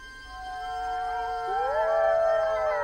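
Eurasian wolves howl at the edge of their territory in the Carpathian forest, several long overlapping tonal howls that rise and hold, moderately distant and steady, with no voices present.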